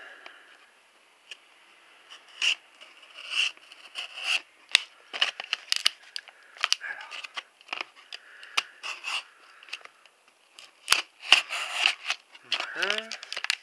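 Tactical folding knife with a nylon handle and carbon steel blade being handled and opened, a run of sharp clicks, scrapes and mechanical snaps close up, with brief speech near the end.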